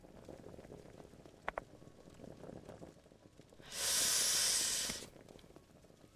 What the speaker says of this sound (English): the water should be boiled, at least we can make some tea